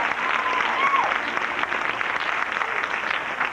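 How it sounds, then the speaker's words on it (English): Audience at a magic show applauds in a sustained wash of clapping, with a faint whistle and some murmuring voices mixed in near the start. "let's give him a nice big round of applause"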